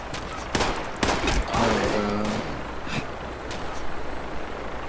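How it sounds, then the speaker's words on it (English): Gunfire in the PC video game Fallout 76, several sharp, loud shots and bursts in quick succession near the start, followed by rumbling battle noise and scattered distant reports. "gunfire everywhere."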